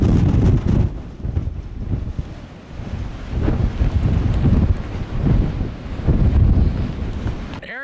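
Strong, gusting wind roars across an exposed snowfield on Mount Rainier near Camp Muir, buffeting the microphone in heavy, continuous low rumbles that surge and ebb without pause.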